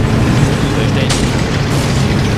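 Artillery fire in the WWII strategy game Blitzkrieg: a sharp burst near the middle rises out of a steady, dense rumble of battle noise, with the overall level staying loud throughout.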